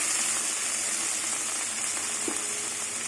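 Tomatoes go into a hot pan of cumin, coriander and green chili paste, producing a loud, steady, close-up sizzle that fries on without pause, with one small clink partway through.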